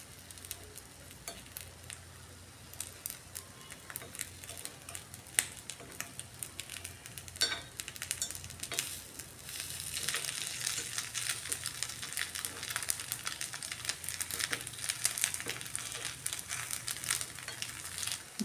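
Semiya egg kuzhi paniyaram sizzle and fry steadily in a pan, a continuous hiss with soft crackles and occasional stirring or turning taps, growing a little louder partway through, with no talk.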